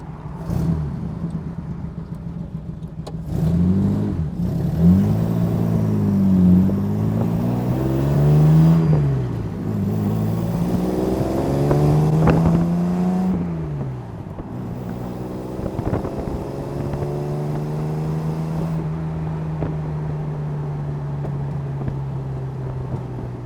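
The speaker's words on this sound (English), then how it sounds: "This engine feels tuned, she's got a lovely power band." A tuned engine in a RAM replica sports car revs up and down in a cabin, rising and falling pitch sweeps through the gears, then settles into a steady cruising drone with wind noise.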